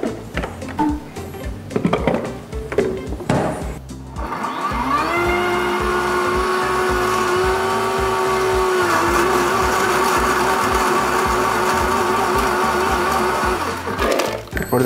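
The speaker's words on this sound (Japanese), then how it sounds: "ミキサーの性能がすごく大事で" A blender blending watermelon juice whirs into a loud, steady high-pitched grind after some handling noises, its motor pitch rising as it blends, then cuts off near the end.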